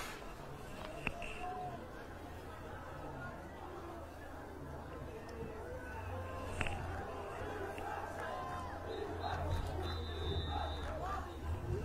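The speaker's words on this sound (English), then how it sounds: "Crowd trying to get the Braintree defense into the game" A high school football crowd in the stands at Braintree makes a steady roar and chatter of cheering to fire up the home defense, sounding distant and continuous and building slightly toward the end.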